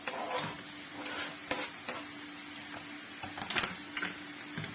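Peppers are added to a chicken paella in a pan and stirred, with scattered scraping and clicking stirring strokes over a soft sizzle and a low steady hum.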